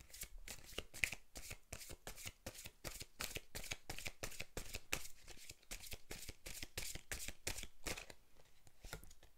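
Oracle cards shuffled by hand for a tarot reading, a fast steady train of crisp riffling flicks, close and quiet, continuing without pause and with no talk.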